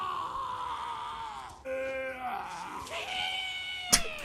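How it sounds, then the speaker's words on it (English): Haggard, strained screams of necromancers in the Total War: Warhammer II battle game, a wavering vocal cry that cuts into a dense battle din and rises into a sharper shriek near the end. "the haggard screams of necromancers have to be some of the best sound effects in the whole game"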